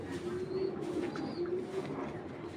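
A female pigeon coos close by, a few low rolling calls in quick succession with a faint higher chirp in the background.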